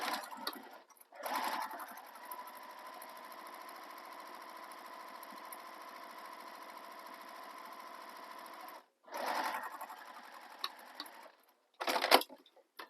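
A sewing machine stitches down the side of a handbag in one long, steady whirring run, with short bursts of handling and rustling before and after.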